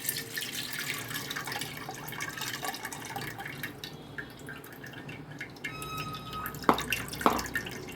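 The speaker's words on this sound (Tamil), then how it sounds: "நம்ம கரைச்சி வச்சிருக்க புளி தண்ணியை கையை வச்சு இருத்துட்டு உள்ளே ஊற்றிக்கலாங்க." Tamarind water poured by hand into a wide clay pot for rasam makes trickling, splashing liquid sounds with scattered drips and two sharper plops near the end, close and moderately quiet.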